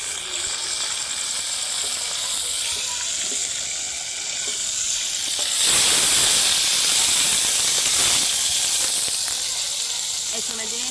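Garlic, onion and ginger-garlic paste frying in a pan over a wood-fired chulha, a steady loud hiss and sizzle that swells into a harsher, brighter burst midway and then holds.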